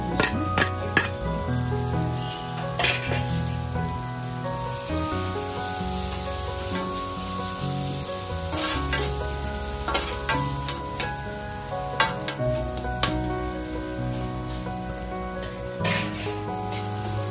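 Chopped onions and green chillies sizzle steadily in a hot pan for chicken fried rice, with frequent scraping and clattering stirs breaking through the constant crackle.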